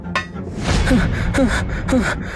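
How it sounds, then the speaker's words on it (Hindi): A soldier pants and gasps for breath, a few quick, heavy sharp inhalations in a row, close and alone. "तभी एक सैनिक हांफता हुआ भीतर आया।"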